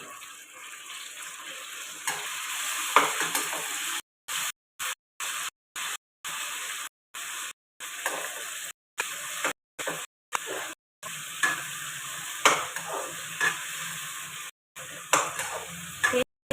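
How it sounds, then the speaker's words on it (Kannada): Brinjal and tomato sizzling and frying in a pan, a steady close hiss broken by stirring scrapes and several brief gaps of near silence, no talking. "ಈಗ ಬದನೆಕಾಯಿ ಟೊಮೆಟೊ ಹಾಕ್ತೀನಿ."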